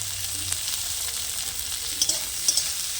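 Chopped tomatoes and onions fry in a little oil, giving a soft, steady sizzle with a few light clinks of stirring near the end.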